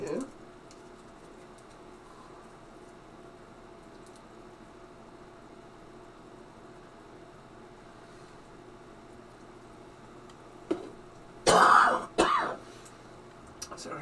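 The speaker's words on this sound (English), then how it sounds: "just got a cough today." Two short, loud coughs burst out near the end after a long stretch of quiet room hum.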